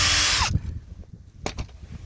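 A concrete drill bores into rock-hard dirt in a loud, high-pitched whine that cuts off after half a second, leaving scraping and clattering handling sounds and a brief second burst.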